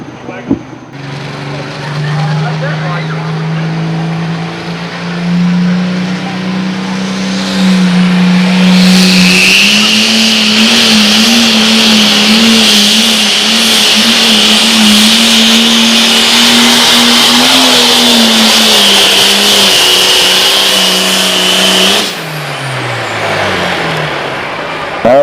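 A 6200 two-wheel drive pulling truck roars at a fair truck pull, its engine climbing to a loud sustained howl for most of the run before dropping off sharply near the end.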